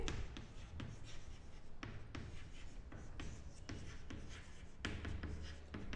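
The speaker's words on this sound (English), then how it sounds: "firstly we will write the formula" Chalk or marker writing out an accountancy formula on a board during a classroom lesson, a steady run of scratchy strokes with short taps between them, close and fairly quiet with no talking.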